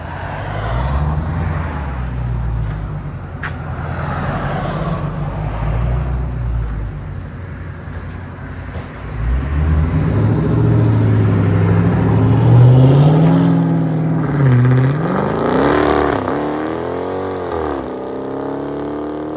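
A 2019 Dodge Charger Scat Pack with a 6.4L HEMI V8 and AWE Track cat-back exhaust pulling away, a deep rumbling idle swelling into loud revving acceleration with rising engine pitch before it fades as the car drives off.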